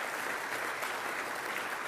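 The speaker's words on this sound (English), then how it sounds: "Let's give them a round of applause." A church audience applauds a youth mission team in a dense, steady patter of many hands clapping, moderately distant and filling the whole moment without speech.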